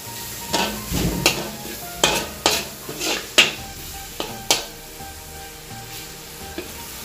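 Onions sautéing in a pan for Pampanga-style bringhe, with a soft steady sizzle broken by repeated stirring scrapes and clinks of a utensil against the pan, close and fairly quiet, no talking.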